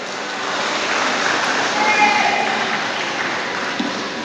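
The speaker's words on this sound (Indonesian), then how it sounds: "Penonton yang budiman, tepuk tangan yang meriah" Audience applause at the women's Fahmil Quran final of the 2017 Aceh MTQ in Aceh Timur, a steady broadband clapping wash that holds evenly for several seconds, with an announcer's voice over it.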